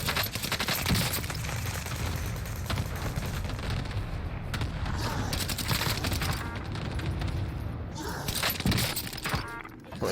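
Rapid automatic fire from a BREN gun in a first-person shooter video game, sustained bursts and sharp impacts filling the clip at steady loudness, with scattered crashes and booms between volleys.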